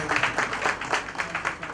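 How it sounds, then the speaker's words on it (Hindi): A crowd at a stage event in Rohini Sector-7, Delhi, claps in uneven rhythmic bursts of moderate loudness for under two seconds. "जोरदार तालियां हम सभी के लिए"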